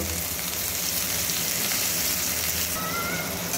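Spice paste that was ground without any water hits dried red chillies frying in hot oil, giving a steady, close, fairly loud sizzle that holds unbroken throughout, with no talking over it.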